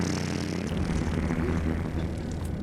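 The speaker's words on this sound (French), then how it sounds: "les moteurs partent et l'avion décolle" Airliner engines spool up as the plane takes off, a dense continuous roar with steady low rumble, loud and unbroken throughout.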